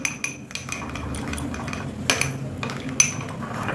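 A spoon scrapes and clinks against a bowl while stirring a thick mustard paste mixture, with irregular metallic taps over a steady low background.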